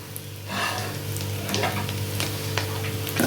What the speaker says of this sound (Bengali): আমি এখন তেল দিয়ে সেঁকে সেঁকে তুলে নেব